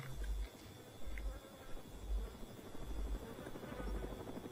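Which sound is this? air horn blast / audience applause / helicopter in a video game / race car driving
helicopter in a video game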